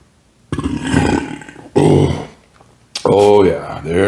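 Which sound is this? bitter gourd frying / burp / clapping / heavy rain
burp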